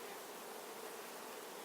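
Honeybees from a newly installed package swarm all over the place, a dense, steady buzzing hum filling the air up close, with no pauses and no voices.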